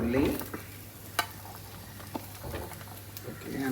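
Onion frying in oil for a Kerala fish head curry, a low steady sizzle with a few sharp spatula taps and stirring sounds, fairly quiet and close.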